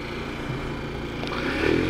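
A Taotao Zummer moped engine idling, a low steady putter with a rough rhythmic pulse, close by and moderately loud, rising slightly at the end.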